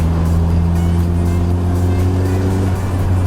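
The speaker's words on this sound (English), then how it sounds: "turbo whistle in the background" Ford Sierra Cosworth P100 pickup of 167 horsepower driving, a loud steady engine drone from inside the cabin with a sustained turbo whistle over it.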